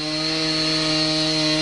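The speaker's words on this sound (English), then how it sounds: "what I'm using is a Dremel with just I think that's a carbide bit" A Dremel rotary tool with a carbide bit grinding down a Jeep headlight switch connector, a loud continuous high-pitched whine with steady tonal hum, close and unbroken.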